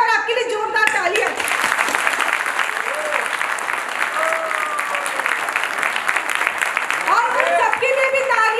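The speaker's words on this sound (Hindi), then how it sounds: "आपके लिए जोरदार तालियां" Loud, steady applause from a seated crowd at a women's movement gathering, the clapping dense and sustained for several seconds, with voices and cheers mixed into the noise.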